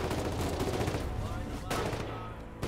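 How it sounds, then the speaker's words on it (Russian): Heavy machine gun firing in the war video game Foxhole: a dense, loud, continuous burst of rapid shots filling the whole stretch, with a voice faintly present underneath. "Крупнокалиберный пулемет. Ну и будем сейчас работать на подавление."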